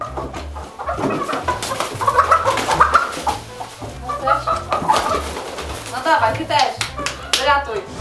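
Hens cluck and murmur close by in scattered bursts, with a person talking over them throughout.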